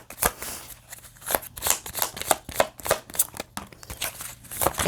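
Tarot cards being shuffled close up, a steady run of crisp riffling bursts and slaps repeating every fraction of a second, with a faint low hum underneath and no talking.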